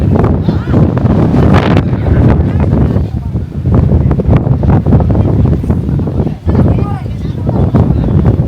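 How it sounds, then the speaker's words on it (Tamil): Strong wind at Ramakkalmedu buffets the microphone with loud, rumbling gusts, nearly constant, while a voice speaks underneath. "காற்றடிக்குது அதனால் காதுக்குள்ளெல்லாம் பயங்கரமாக போகுதுங்க"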